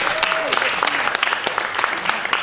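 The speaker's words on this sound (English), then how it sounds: "Another round of applause for her." Audience applause for someone speaker at an event, a dense steady patter of many hands throughout, with voices calling out over it.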